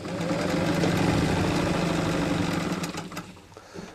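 A vintage Singer 66 sewing machine running under pedal control, a steady mechanical whirr with fine rapid stitching rhythm for about three seconds, then slowing and tapering off, close up with no voices.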